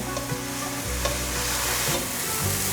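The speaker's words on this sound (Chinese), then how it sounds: "把调味料炒匀" Curry powder, white pepper, rose salt and soy sauce being stir-fried in a pan, with a steady sizzle and occasional scrapes of a spatula stirring the seasoning.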